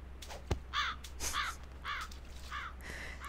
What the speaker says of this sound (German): Da oben sitzt eine Krähe